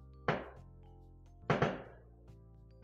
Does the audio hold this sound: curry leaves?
no